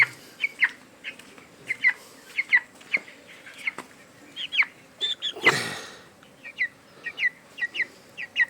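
Chickens feeding give short, repeated clucks at an irregular rhythm, fairly close, and a brief louder rustling burst cuts in midway.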